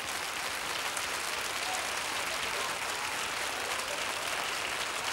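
Steady, dense applause from a live audience at a comedy show, filling the whole stretch at an even, loud level with no pauses or speech.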